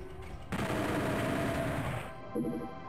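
Rapid automatic fire from the chain gun in the video game Doom 64, a loud sustained burst of about one and a half seconds, followed by a brief second sound.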